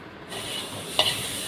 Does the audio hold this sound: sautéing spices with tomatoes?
yes